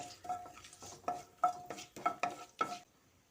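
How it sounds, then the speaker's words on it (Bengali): Whole garam masala spices (cinnamon, cloves and halved cardamom) frying in a pan, a series of quick metallic spoon clinks and scrapes over a faint sizzle, close and quiet, ending in near silence. "গরম মশলাগুলো কিছুক্ষণ ভেজে নিচ্ছি"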